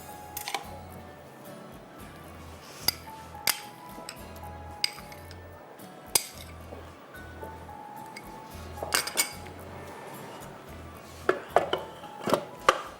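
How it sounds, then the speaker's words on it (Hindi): Buttermilk, eggs and butter are beaten together in a bowl, heard as a run of sharp clinks and knocks of a spoon against the bowl at uneven intervals, with a low hum and faint background sounds. "ये सब कुछ आपने एक साथ डाल के बीट करना है।"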